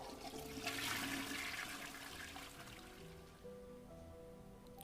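A video game toilet flushes with a surging rush of water that gradually subsides into a quieter trickle and refill.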